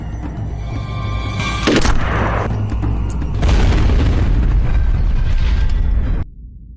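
A bomb blast rendered as a heavy, sustained roaring boom with a sharp crack near the start and a rumbling tail that cuts off abruptly, loud and without speech.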